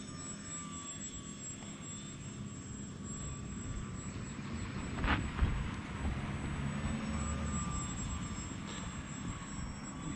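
A Bayer Model 32-inch Vertigo RC airplane flying, its engine a thin, distant steady drone over outdoor ambience, swelling briefly midway as it passes nearer.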